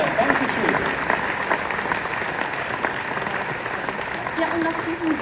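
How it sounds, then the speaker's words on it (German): Audience applause fills the closing ceremony of a military world winter games in Lucerne, steady dense clapping from a large crowd lasting several seconds, with some voices mixed in. "Noch einmal einen großen Applaus"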